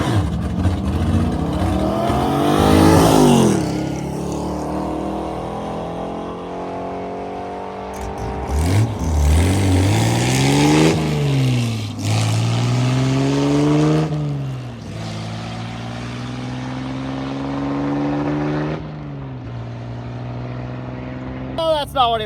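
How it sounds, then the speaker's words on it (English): An old gasser drag car roars close by in several loud, rising revving surges that sweep up and down as it accelerates hard down the strip, with people talking over the engine noise. "Let's see the old gasser get down."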